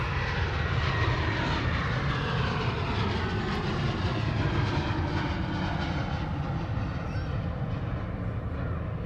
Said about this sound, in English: You go KLM 737 off to Amsterdam Schiphol.